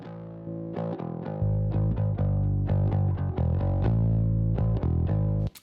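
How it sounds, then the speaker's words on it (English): Bass guitar through a distortion channel mixed with its DI and amp signal, playing a steady, sustained, gritty bass line at a strong, even level for several seconds, with no voices. "So you can hear there's just a distortion channel running underneath here."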